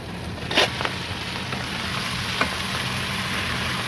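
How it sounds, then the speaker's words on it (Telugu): Large prawns deep-frying and roasting in hot oil with curry leaves give a steady close sizzle, with a couple of sharp spatters or stirring clicks, with no voices. "రొయ్య బాగా చుట్టుకుపోయేదాకా వేపుడు చేసుకోవాలి, రోస్ట్ అవ్వాలి బాగానే"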